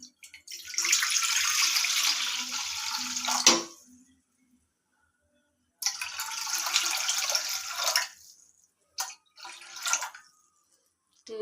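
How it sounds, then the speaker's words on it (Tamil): Water runs in a steady stream into a kadai pan for a few seconds, stops, then pours again, followed by a couple of short splashes. "தேவைக்கேற்ப தண்ணி ஊற்றிட்டு"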